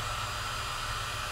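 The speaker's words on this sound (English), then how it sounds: "Instead, I've got my industrial heat gun." An industrial heat gun blowing hot air onto a shoe to stretch it, a steady close, loud airy whoosh with a low motor hum and no variation.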